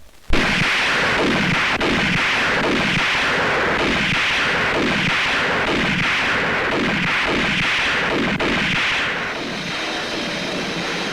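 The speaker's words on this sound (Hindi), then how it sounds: "गोली कहाँ चल रही है?" Gunfire in a Hindi action film crackles without a break, with overlapping shots and rhythmic bursts blending into a dense, loud roar that runs for over ten seconds.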